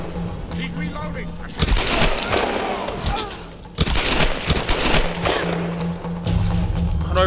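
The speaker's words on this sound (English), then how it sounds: "the recoil when she started shooting up behind the boxes was actually insane" Bursts of loud gunfire in Tomb Raider, sharp rapid volleys separated by short lulls, with game sounds and talk in between.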